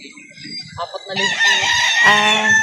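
A golden-colored rooster at a chicken market crows loudly and close, one long drawn-out call following a few soft clucks.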